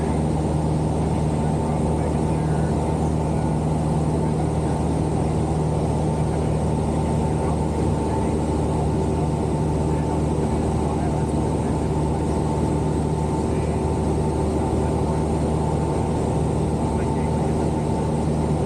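Steady drone of a light propeller airplane heard from inside the cabin in flight, a constant engine and propeller hum with a strong low tone that stays even throughout, with no talk.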